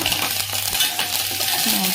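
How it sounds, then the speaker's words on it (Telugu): Curry leaves and spices crackling in hot oil for a tempering while a spoon stirs and scrapes the pan, short sizzles and metallic clinks close by, no talking. "కరివేపాకు ఇవన్నీ వేసాను అనమాట ఇవన్నీ వేసాను తాలింపు వేగుతుంది"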